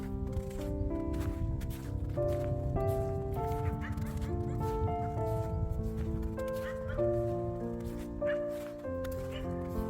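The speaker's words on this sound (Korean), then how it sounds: "동네가 조용하다 보니까 동네 멍멍이가 막 시작되네" Dogs in a quiet, deserted rural village bark repeatedly in overlapping bursts, fairly close and persistent against a busy, continuous background.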